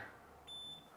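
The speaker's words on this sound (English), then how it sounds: "if you leave the lid up too long, it starts giving you a warning beep." An Iceco APL55 dual-zone fridge sounds a single steady electronic warning beep for its open lid, a clear high tone lasting about a third of a second over quiet background hiss.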